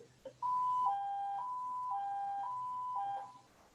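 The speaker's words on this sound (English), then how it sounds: "This high-low siren allows us to quickly alert entire neighborhoods that they're in immediate danger." An alternating two-tone high-low evacuation siren wails steadily for a few seconds, loud and clear, with no voices.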